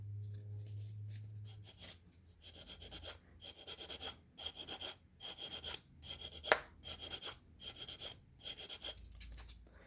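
Coarse 100-grit sandpaper rasps over silver-painted white plastic in rhythmic back-and-forth strokes, about a dozen quiet, close scratchy bursts separated by short pauses, after a faint hum at the start.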